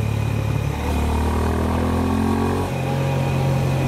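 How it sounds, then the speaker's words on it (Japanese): A motorcycle's exhaust drones loudly and close, dipping in pitch before jumping back up as the rider shifts gear. "排気音はエンジンのフィーリングとは裏腹に決してこう連続的になることがない。"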